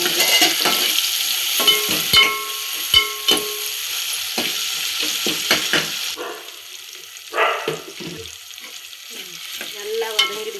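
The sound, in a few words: ingredients sautéing in a pan for fish kulambu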